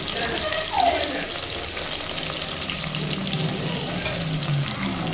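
Food deep-frying in hot oil in a pan until browned, for a biryani, gives a steady, loud sizzle and hiss with a voice talking softly underneath.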